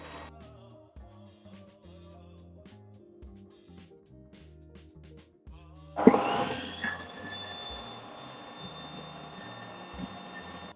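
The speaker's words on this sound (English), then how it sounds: "you need to stand by your mixer and continue to scrape down the bowl of your mixer to ensure proper mixing" Electric stand mixer beating vanilla pound cake batter, a quiet mechanical hum at first, then a sudden louder whirring burst with scraping rattles as mixing picks up, settling into a steady high-pitched drone.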